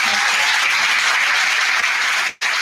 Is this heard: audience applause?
yes